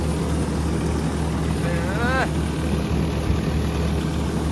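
A steady low tractor engine idle drones throughout, with a brief rising whine from a voice or machine partway through.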